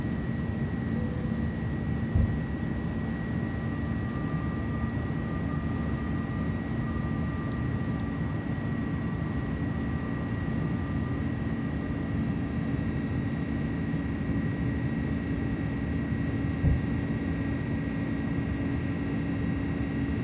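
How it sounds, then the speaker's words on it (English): An iniBuilds A300 airliner climbs out in a flight simulator as its landing gear retracts, giving a steady, even jet-engine drone with a faint hum over it that holds unchanged throughout. "Positive rate, landing gear coming up."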